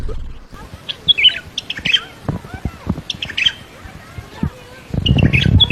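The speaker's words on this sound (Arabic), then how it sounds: "إنه البلبل العراقي، المعروف أيضا باسم البلبل أبيض الخدين أو أبيض الأذن" An Iraqi bulbul, also called the white-eared bulbul, sings in short bright chirps and whistled phrases repeated across a few seconds, with a burst of low noise near the end.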